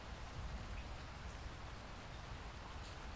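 Steady rain falling in a rainy season, a dense continuous hiss of drops on surfaces, fairly soft and even throughout with no voices.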